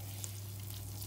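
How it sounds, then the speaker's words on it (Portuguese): Butter melting and sizzling in a pan as the base for a béchamel, a soft steady crackle that is faint and continuous with no voices. "Vou deixar derreter um bocadinho a manteiga para juntar a farinha"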